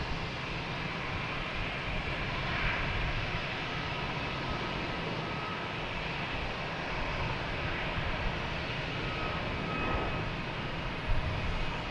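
An Alaska Airlines airplane at Boston Logan Airport, bound for Portland, produces a steady, moderately distant jet engine roar that holds evenly throughout.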